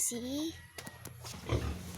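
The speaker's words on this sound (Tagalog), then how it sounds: "Dalawa po dito ang baboy." Two pigs give low grunts and snorts, close and loud near the end, after a squealing call; a person talks briefly in the background.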